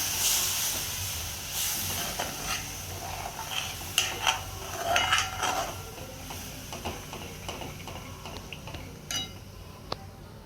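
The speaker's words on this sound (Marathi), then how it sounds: "आणि आता ह्याच्यामध्ये मी टाकते पाणी" Water poured into a hot pan of vegetable curry hits with a loud hiss and spitting crackles that surge in bursts, then settle into a quieter steaming sizzle.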